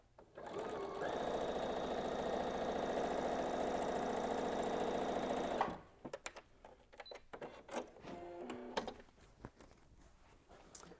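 A sewing machine stitches quilt fabric blocks together for a three-dimensional box in a steady, buzzing run of about five seconds, then stops, followed by scattered handling clicks and fabric rustles.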